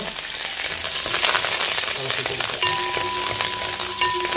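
Fenugreek, dried red chillies and curry leaves spluttering in hot oil for sambar make a loud, steady close sizzle with scattered crackles and stirring, and a faint tonal hum enters partway through.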